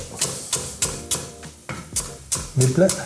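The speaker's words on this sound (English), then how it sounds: "we're going to give those about 5 minutes to start cooking down" Sliced leeks cooking down in a pan, with a rhythmic series of sharp scraping and stirring knocks about every third of a second, close and loud, and a light sizzle underneath.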